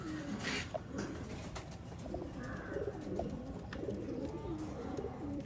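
Pigeons at a wholesale pigeon market in Bangalore coo steadily in soft, overlapping low calls, with occasional chirps and rustling. No one speaks over the flock.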